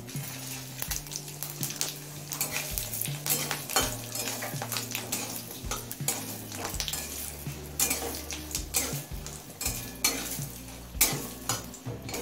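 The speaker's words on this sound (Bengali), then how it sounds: "পাঁচ ফোড়ন আর শুকনো লঙ্কাটা লাল করে ভেজে নিয়েছি" Panch phoron and dried red chillies fry in hot mustard oil, a continuous close sizzle broken by repeated metal spoon clinks and stirring scrapes against the pan, with no voices.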